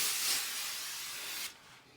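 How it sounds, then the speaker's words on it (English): Foam cleaner hisses steadily from a spray can onto stained windows, a loud close continuous burst lasting about a second and a half before it cuts off, with no talking. "And take some foam cleaner"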